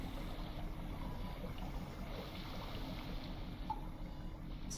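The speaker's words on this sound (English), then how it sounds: "Right now I'm only hearing water." Steady rushing water flows through a dungeon in Morrowind Rebirth, a continuous low wash with constant, even loudness and no voices.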